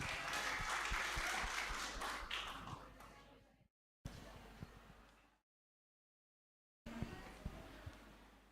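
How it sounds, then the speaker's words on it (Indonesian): Applause from an Easter church gathering's audience welcoming a fashion show team, a dense wash of clapping that fades, drops out in silent gaps, then resumes. "Beri tepuk tangan yang meriah."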